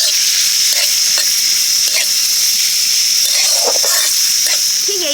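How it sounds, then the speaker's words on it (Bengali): Finely chopped onion frying in a small amount of white oil in a wok, giving a steady, close sizzle and hiss with occasional stirring scrapes, no talk. "এবার ওই তেলের মধ্যে আমি পেঁয়াজ কুচি নিয়েছি, খুব অল্প একটু পেঁয়াজটাকে ভেজে নেব।"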